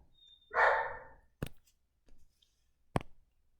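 A pet dog barks once in a loud, close burst, followed by a few sharp knocks or clicks spaced across a quiet room.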